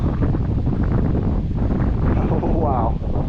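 Strong wind roars across the microphone during an XK P-51 Mustang RC plane flight on a gusty day, a dense, constant buffeting rush at close range.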